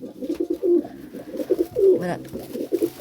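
Repeated soft, throaty coos from a newly bought pigeon, close and fairly loud, in rolling bursts that continue steadily with little pause.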